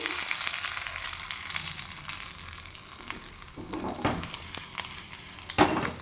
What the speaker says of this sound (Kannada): ಗೋಲ್ಡನ್ ಫ್ರೈ ಆಗ್ತಾ ಇದೆ ಇವಾಗ ಕರಿಬೇವು ಇದ್ದೀನಿ